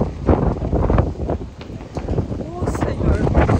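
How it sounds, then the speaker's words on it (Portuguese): Strong gusts buffet the microphone outdoors on a walk through Haarlem near Amsterdam, making a loud, rumbling roar that rises and falls throughout. "o vento tá intenso"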